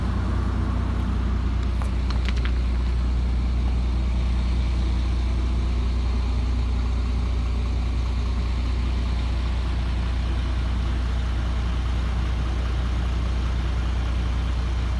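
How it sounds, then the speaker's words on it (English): A 2007 GMC C6500 24-foot box truck with liftgate idles steadily and close by, a deep, even engine rumble that holds constant throughout with no talking over it. "It's a very strong running box truck."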